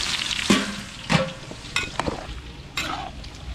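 Garlic and onion sautéing in a pan for menudo: a steady sizzle with several sharp stirring scrapes, close and moderately loud, and no talking.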